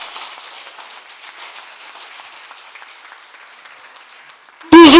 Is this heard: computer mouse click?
no